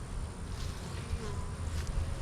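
Honey bees drone around an opened beehive during a hive split, a soft continuous buzzing hum that stays low and steady, close but fairly quiet.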